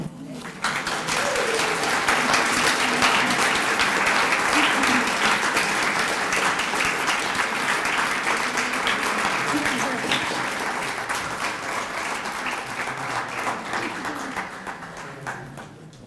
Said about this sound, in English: Can we give Dolores another round of applause?